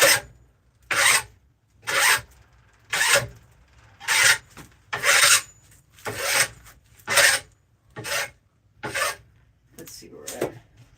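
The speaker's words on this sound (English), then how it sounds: "We'll do a little bit of a plane." A hand plane takes repeated shavings from resinous wood, about nine rhythmic rasping strokes, each roughly half a second long and evenly spaced, loud and close, with brief quiet gaps between them.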